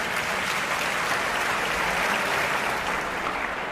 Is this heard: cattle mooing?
no